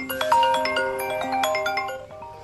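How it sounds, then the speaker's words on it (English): A phone ringtone plays a bright, repeating melodic chime of stacked electronic tones, fairly close and steady for a couple of seconds with no talking over it. "Your dad's ringing, 1 minute."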